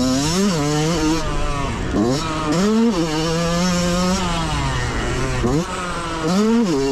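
A Yamaha YZ125 two-stroke dirt bike rips around a motocross track at Travelers Rest, South Carolina, its engine wailing loud and close with rising and falling revs through gear changes.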